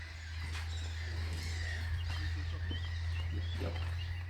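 Birds call at a man-made lake, bird cries and chirps scattered through the clip over a steady low hum, with no talking.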